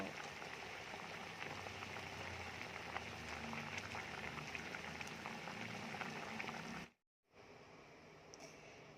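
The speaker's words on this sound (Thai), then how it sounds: "ตอนนี้ก็เดือดปุดๆแล้ว" Tom kha gai, a Thai chicken and galangal coconut soup, boils in a pot with a steady, close hiss of popping bubbles. The bubbling is constant except for a brief silent break near the end, and no one speaks.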